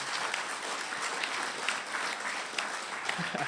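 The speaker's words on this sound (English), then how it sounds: "So I think we should give him a big round of applause." A party conference audience applauds a translator with steady, dense clapping that fills the whole hall and carries on evenly from start to finish.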